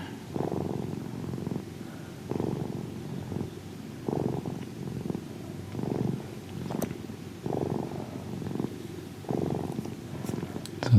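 Close, loud purring from a cat being brushed with a wooden brush, rising and falling in steady breathing swells about every second and a half, with no talk over it.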